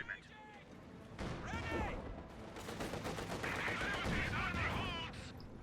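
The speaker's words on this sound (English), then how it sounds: "T-70 trying to take some pot shots at the Volks as it backs off a bit here" A T-70 light tank fires pot shots at Volksgrenadier infantry while backing off in a Company of Heroes 2 match on Mill Road, sharp gunfire bursts over battle noise with a commentator talking throughout.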